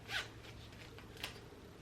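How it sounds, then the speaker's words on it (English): A zipper is drawn shut on a laundry bag packed with activewear, one quick close zip followed by a second short pull, quiet and alone. "and then I zip,"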